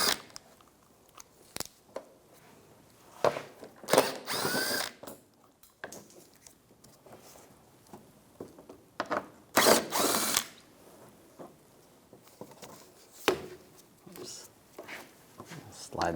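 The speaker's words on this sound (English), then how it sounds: "Using a 10mm socket, take all these bolts out." A power tool fitted with a 10mm socket backs bolts out of the side engine splash shield of a 2004-2009 Toyota Prius, firing in several short, loud ratcheting bursts between quieter stretches.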